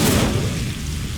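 Incendio fire spell in Hogwarts Legacy, a brief, loud, dense roar of flame that fills the moment and fades slightly toward the end.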